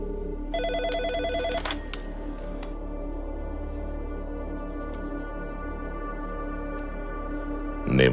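A telephone rings after a number is dialled, with a repeated electronic ringing tone and steady background hum throughout, then a brief louder burst at the end.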